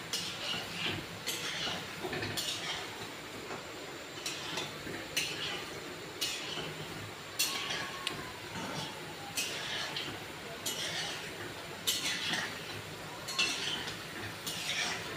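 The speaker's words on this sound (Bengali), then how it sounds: "দিয়ে নাড়তে হবে, ভেজে নিতে হবে লাল লাল করে" Sweets frying in a pan over a low gas flame are stirred with a utensil, which scrapes and clinks against the metal in a steady repeating rhythm over a soft sizzle, up close and moderately loud.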